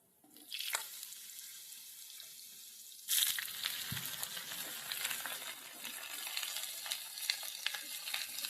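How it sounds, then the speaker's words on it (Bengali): Eggplant pieces fry with garlic in hot oil. A soft sizzle gives way to a sudden louder burst as the pieces go in, then a steady close crackle with occasional stirring clatter. "সমস্ত বেগুনগুলো এবার রসুনের সঙ্গে তেলের সঙ্গে ভালো করে মিশিয়ে ভাজা ভাজা করতে হবে"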